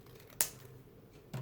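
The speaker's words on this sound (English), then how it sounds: "for the little mini collage, let's cut that a bit better" Scissors snip paper for a small collage: one sharp close cut, then a second softer snip a moment later, against a quiet room hum.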